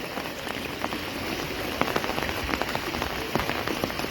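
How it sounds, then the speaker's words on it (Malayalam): Heavy monsoon rain pours steadily at Aluva Manappuram in Kerala, a dense hiss with scattered louder drops spattering on a nearby surface. "ഈ മഴ ഇങ്ങനെ നിന്നാൽ വലിയ പെട്ടെന്ന് വെള്ളം കയറും"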